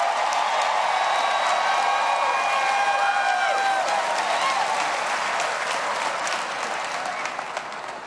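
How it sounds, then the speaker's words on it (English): A crowd applauds and cheers during a political primary-night speech, full sustained clapping with whoops and whistles that slowly fades out. "Give them a big round of applause."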